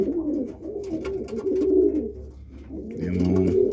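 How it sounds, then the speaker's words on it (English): Pigeons coo in a loft, several soft, throaty, rolling calls overlapping close by, with a brief flutter or shuffle and another round of cooing near the end. "I got some of my birds in here"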